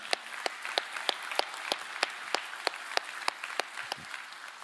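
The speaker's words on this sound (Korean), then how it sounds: "오늘 이 자리에 계신 우리 모든 어머님들께 감사의 박수 한번 드릴까요" A church congregation gathered for a Mother's Day Sunday service claps in thanks, sparse individual hand claps landing in a loose, fairly regular rhythm rather than a dense ovation.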